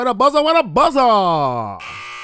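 A buzzer sound effect: a few short electronic buzzing blasts, followed by a longer tone that falls in pitch and then cuts off, loud and close.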